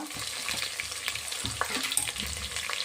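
Ginger garlic paste with mint frying in hot oil, a steady close crackling sizzle with scraping stir strokes throughout, no talking.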